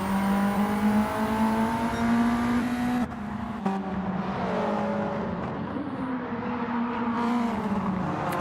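Sim race cars drive through corners, a sustained engine whine rising and falling as the cars brake and accelerate, steady and fairly loud, with another car's pitch briefly overlapping.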